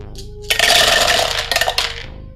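Dice tumble and clatter across a tabletop during a tabletop roleplaying game session, a loud burst of rattling clacks lasting about a second and a half, close by, then fading.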